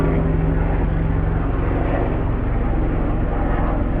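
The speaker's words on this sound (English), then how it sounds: "And now I've got a helicopter going on." A steady low engine drone, like a helicopter passing overhead, constant and fairly loud throughout with no voices.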